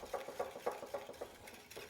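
A whisk or spoon stirs milk into an egg mixture for crème caramel, making quick, soft rhythmic clinks and scrapes against a bowl, about eight strokes in a steady beat, close but quiet.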